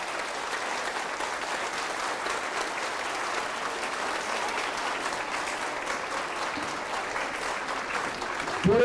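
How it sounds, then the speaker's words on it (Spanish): A church congregation at a Catholic mission gathering claps steadily for about nine seconds. The applause sounds dense and even across the room, with no voices. "Fuerte el aplauso al Señor Jesús."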